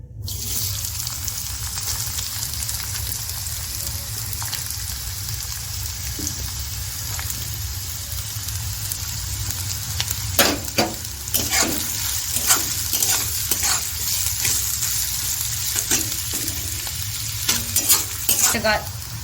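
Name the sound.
frying carrots in white oil in a wok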